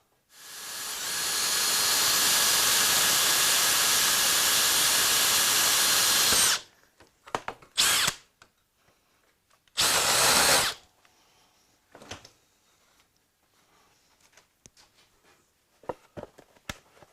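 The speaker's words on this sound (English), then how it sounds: "I'll start that with a centre drill." A centre drill cuts a witness mark into a metal part for a Suzuki GS1000 cover, a loud, steady high whine lasting about six seconds, followed by a couple of short bursts and faint clatter.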